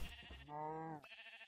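A cow in the Minecraft video game lets out a single drawn-out moo, loud and close, with game noise before and after.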